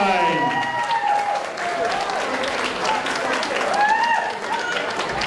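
Crowd applause at an amateur fight night after a 65 kg bout result, with clapping and cheers mixed with whistles and shouts, loud and lively across the whole stretch.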